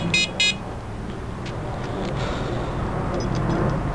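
Xena disc lock alarm giving two short, loud electronic beeps at the start, followed by faint chirps against steady background traffic noise.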